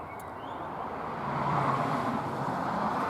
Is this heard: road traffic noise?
yes